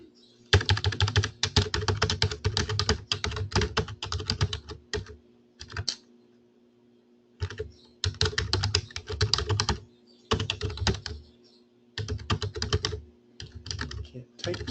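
Rapid typing on a computer keyboard during a premarket stock trading session, dense bursts of clicking keystrokes separated by short pauses, close and fairly loud over a steady low hum.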